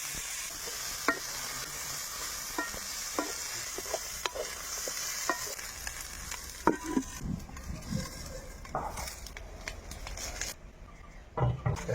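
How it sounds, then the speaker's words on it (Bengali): Raisins frying in oil in a village kitchen while Afghani pulao is cooked, a steady soft sizzle broken by scattered stirring clicks and scrapes, with no talking. "তোমার কিশমিশ ভাজা দিয়ে দিতেছি"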